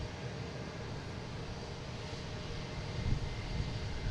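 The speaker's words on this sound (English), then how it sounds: "Next taking off is Delta at A321 Neo" A Delta Airbus A321neo takes off at Boston Logan, giving a steady, broad jet engine roar with a low rumble that swells slightly toward the end, heard continuously from a moderate distance.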